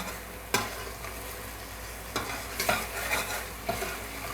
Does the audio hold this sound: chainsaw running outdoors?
no